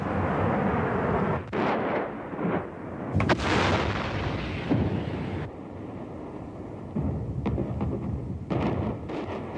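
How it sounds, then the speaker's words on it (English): Artillery and tank fire bombarding an encircled city in Lebanon in 1982, heard as repeated heavy booming blasts and rumbling bursts over a constant noisy wash, with a faint steady tone in the later part. "The artillery and tanks that had encircled the city aimed their fire at specific buildings"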